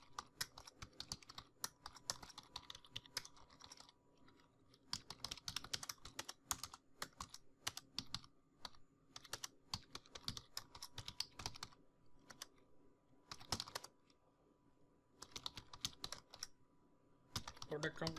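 Rapid, close clicking of computer keyboard keys in bursts with short pauses while a PHP select query is typed, steady and fairly quiet throughout.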